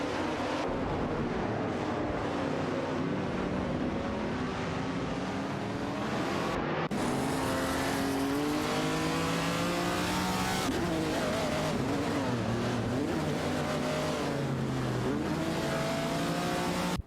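Race cars in an AI racing video game, including BMW 3 CSLs and a Ferrari 365 GTB Daytona, with engines constantly revving and shifting pitch as several cars drive close together, loud and continuous with brief gear-change dips.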